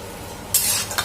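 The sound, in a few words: onions frying in pan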